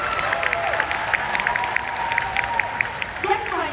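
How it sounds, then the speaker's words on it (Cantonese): Seminar attendees applaud in a steady patter of many claps while a speaker's voice carries over the top near the start and end of the applause. "想俾啲掌聲嚟聽下先。"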